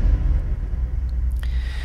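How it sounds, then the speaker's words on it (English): Deep impact hit from the Heaviosity plugin for video game music, a massive low rumbling boom that swells and decays over a couple of seconds, loud and alone. "I wanted to have these very deep hits. And I used one of my favorite plugins, which is called Heaviosity."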